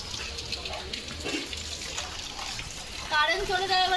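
Water running from a tap into a bottle, a steady soft hiss and splash with voices talking over it, ending in a brief louder gurgle as the stream shifts.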